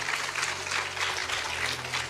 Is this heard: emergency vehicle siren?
no